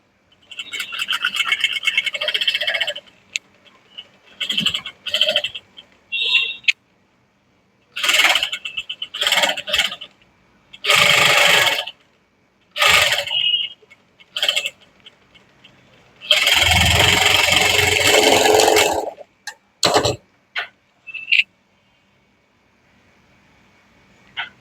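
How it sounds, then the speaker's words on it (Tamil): A sewing machine stitches around the neckline of a garment in loud, close bursts of whirring motor and needle rattle, separated by pauses, with one longer run near the end. "இப்போ ரைட் சைடில் இருக்க பீஸில் அப்படியே இப்படி டேர்ன் பண்ணி ராங் சைடில் ஸ்டிச்சஸ் கொடுக்க போகிறோம்"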